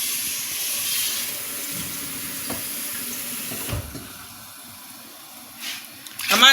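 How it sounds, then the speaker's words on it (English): Water runs and splashes steadily into a pot of thick ogbono and egusi soup, a continuous hissing pour that tapers off before a few clinks at the end. "I'm adding water to loosen it up."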